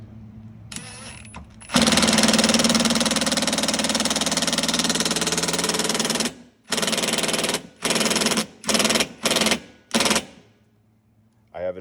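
A loud impact driver whirs continuously for several seconds while removing a bolt on a Can-Am Commander driveline, then fires in a series of short rapid bursts with brief pauses between.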